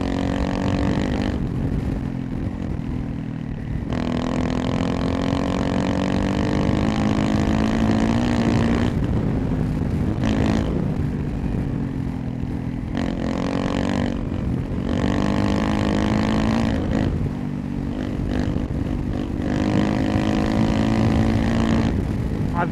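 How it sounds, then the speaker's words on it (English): A Honda CRF300 motorcycle with an ECU, airbox and tuned exhaust setup is ridden, its engine droning loud and steady through repeated rises and drops in revs as it pulls through the gears. "Alright, I'm gonna shut up and you can just listen to the bike."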